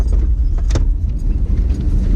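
Car being drifted with the handbrake in an automatic, a dense low engine and tyre rumble filling the whole stretch with a few brief higher scuffs, close and loud, with no talk.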